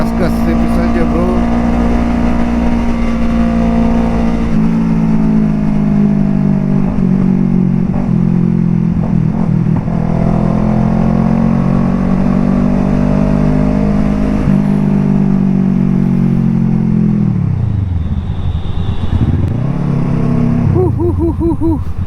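A Kawasaki Ninja RR 150 motorcycle cruising on light throttle along a bumpy road, its engine humming loud and near with gently shifting pitch and a few slow rev dips toward the end.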